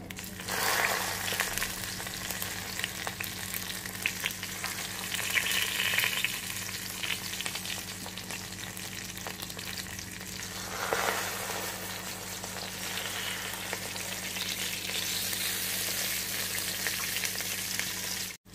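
Potatoes and a taro leaf fry in hot oil, giving a steady, soft sizzle that continues for the whole stretch with occasional light scraping, no talking.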